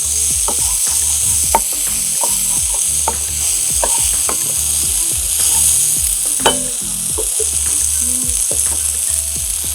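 Brief frying in a pan during home cooking, with steady sizzle and intermittent clinks and scrapes of stirring, fairly close and without talk.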